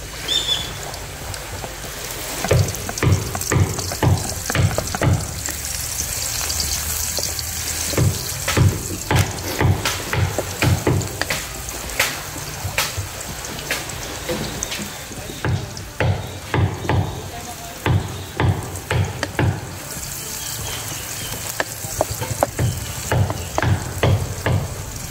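Onion and garlic sautéing in a frying pan with potatoes close by, a steady close sizzle running throughout, broken by repeated sharp clinks and scrapes of a spatula stirring against the pan.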